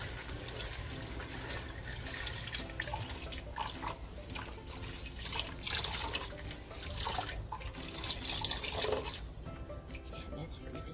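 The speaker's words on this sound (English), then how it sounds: "so I'm gonna add water." Water is poured into a pot of Uziza soup during cooking, a steady splashing, running flow over about eleven seconds with a low hum beneath, close and fairly loud, with no talk over it.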